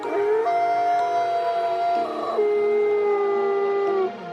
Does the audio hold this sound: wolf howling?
yes